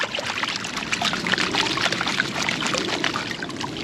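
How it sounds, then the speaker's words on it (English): Gold prospecting material is submerged and shaken underwater, giving a continuous close sloshing and gurgling water sound with rapid trickling agitation, steady throughout and without speech. "If I submerge it underwater, I create liquefaction"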